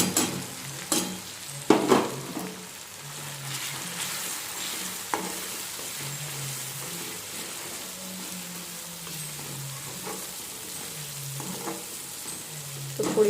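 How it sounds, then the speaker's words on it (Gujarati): Spices and tomatoes fry in a pan for pressure-cooker pav bhaji, giving a steady close sizzle with a few sharp clinks and scrapes of stirring near the start. "હવે જે આપણે મસાલા જે આપણે લીધા હતા એ અંદર એડ કરી દઈએ."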